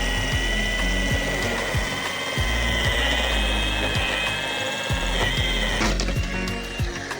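A power drill fitted with a bit extension bores through a fibreglass koi pond shell, giving a steady, loud, close whine with a rough grinding texture throughout, shifting pitch slightly near the end.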